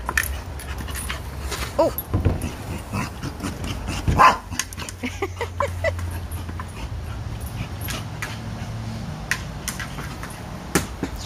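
A black dog pants and whimpers with a few short barks, close by and moderately loud, with one brief louder yelp midway and a quick human exclamation.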